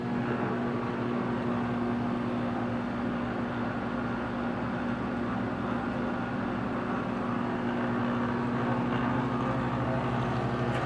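A single-phase Monarch 10EE 12.5x20 precision lathe runs steadily under VFD control, giving off a continuous even machine hum with a strong steady tone that holds unchanged from start to finish.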